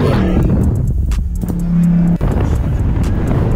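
Dodge Scat Pack muscle car engine heard from inside during a ride, a loud steady rumble that swells briefly with a rising drone, wind noise throughout.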